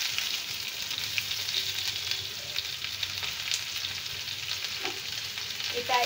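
Chopped garlic and onion fry in hot oil, a steady close sizzle with faint stirring scrapes, no voices.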